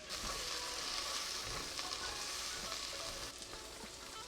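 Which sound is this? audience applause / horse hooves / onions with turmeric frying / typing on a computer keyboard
onions with turmeric frying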